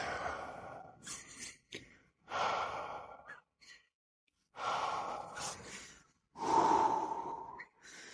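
Heavy breathing during a low-impact, qigong-inspired mobility exercise: several long, loud breaths and sighs, each followed by a short silent pause, close to the microphone.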